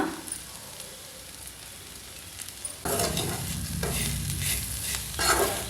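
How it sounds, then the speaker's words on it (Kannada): Cooked leafy greens are stirred in a pan with ground masala powder, a soft steady frying hiss that grows louder halfway through as the spoon scrapes and turns the mixture, with no voices. "ಪುಡಿ ಮಾಡಿಟ್ಕೊಂಡಿರುವಂಥ ಮಸಾಲೆಯನ್ನು ಸೇರಿಸಿ ಸ್ವಲ್ಪ ಮಗಚಿಕೊಳ್ಳುವ"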